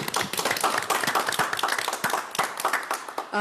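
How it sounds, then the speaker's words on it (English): Sparse, close clapping from a small crowd at a school board meeting, made of uneven individual claps that thin out near the end as a brief tone cuts in. "So round of applause to her"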